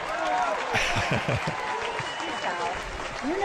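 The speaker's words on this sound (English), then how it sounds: "A round of applause for Rick there." Studio audience applause for a co-host named Rick on a Halloween-themed show, a dense steady clapping close by that runs the whole time, with a voice talking over it.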